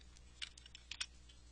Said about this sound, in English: I'm going to go ahead and click on Tab and Enter